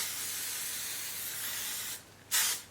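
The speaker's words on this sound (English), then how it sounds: "take a cheap, wet hairspray and douse my paddle brush" Cheap wet hairspray hisses onto a paddle brush in a steady spray, then stops briefly before one short, louder burst close by.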